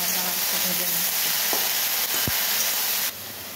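Vegetables, eggplant and potato, sizzle in a hot pan in a home kitchen, a continuous close hiss with a few soft stirring knocks, the tone shifting slightly near the end.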